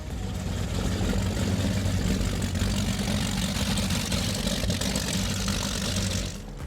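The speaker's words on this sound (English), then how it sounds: "38-foot Donzi ZR competition model, all done up with some big power. Let's listen in." A 38-foot Donzi ZR competition powerboat's engines idle with a steady, deep rumble at close range, loud and even throughout, easing off slightly at the end.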